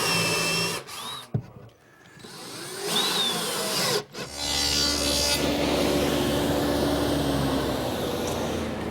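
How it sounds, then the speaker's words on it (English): A power drill pre-drills screw holes in wood for the front of a kitchen island, with short whining bursts and pauses followed by a longer, steady drilling run, close and loud. "pre-drill some holes to attach the front permanently with screws"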